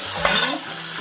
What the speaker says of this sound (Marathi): ही फोडणी आपल्याला शिजून द्यायची याची